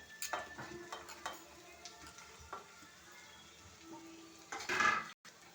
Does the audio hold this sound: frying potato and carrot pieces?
yes